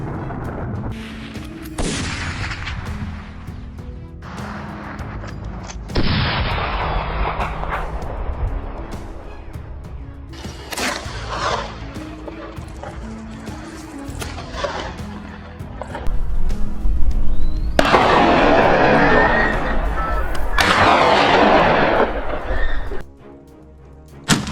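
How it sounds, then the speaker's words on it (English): Rifle shots during a large-scale wild boar hunt on open hillsides: several sharp, loud cracks at irregular intervals, mixed with bursts of rustling movement and wind noise. "Rifle shots rang out steadily, each one from Ibrahim, who didn't miss a single target."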